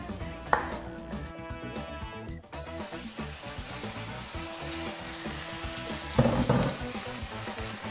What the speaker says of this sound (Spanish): Vamos a sellar la pechuga por ambos lados